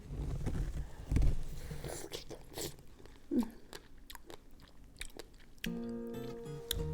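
Someone bites into big strawberries dipped in chili fish sauce, giving close, crisp crunches followed by wet chewing in a short irregular series, with faint background noise.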